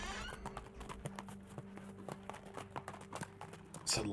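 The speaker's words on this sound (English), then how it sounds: "It's a loud horse." Horse hooves clip-clop in a quick, steady rhythm at fairly close range over a low hum, with a louder burst right at the end.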